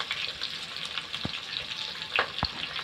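Chopped onions frying in ghee on a village chulha stove, a soft steady sizzle with a few sharp clicks and spatters, close and alone without talk.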